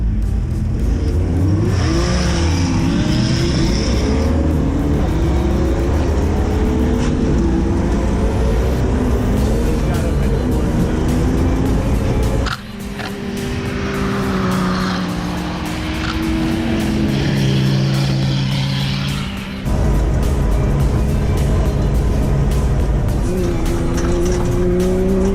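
A rally race car starts off and drives away with loud engine revving and tire squeal, its pitch climbing through the gears. The engine drops out briefly mid-run, then a second burst of engine noise and acceleration follows.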